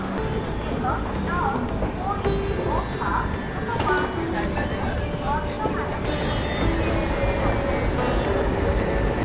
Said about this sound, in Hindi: हमारी पुरी ओखा एक्सप्रेस जो है वो पुरी से डिपार्चर ले ली है